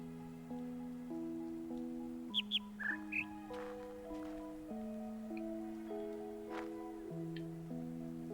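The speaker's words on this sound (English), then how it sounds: "we got to hear that bird chirp and that helped" A bird chirps in The Witness video game, a few quick high chirps clustered together over quiet, steady tonal ambient music, with a faint chirp or two later.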